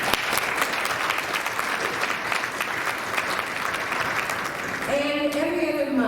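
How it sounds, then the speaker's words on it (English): Audience applause for candidates at a neighborhood association candidates night, steady dense clapping from a room of people throughout, with a few voices and a brief rising tone near the end. "Please give them a round of applause."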